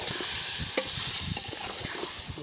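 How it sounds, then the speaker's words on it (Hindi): A spoon stirs chicken masala in a frying pan, giving a steady sizzle with soft scraping and clinking throughout. "इसको चम्मच से घुमा रहे हो अभी"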